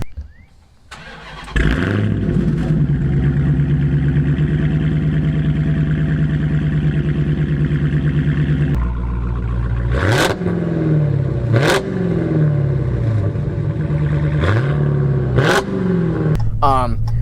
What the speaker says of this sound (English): I'll put an exhaust clip up somewhere.